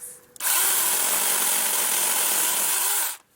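A Natiddy mini chainsaw runs at a steady high-pitched whine for about three seconds, loud and close, clearing brush on a homestead, starting and stopping abruptly with no talk over it.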